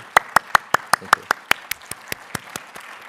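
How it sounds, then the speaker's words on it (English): A few people clapping at a venture competition finale, about a dozen distinct, evenly spaced claps close by and fairly loud, slowing and thinning toward the end. "Please, I ask everyone to join me in applauding them."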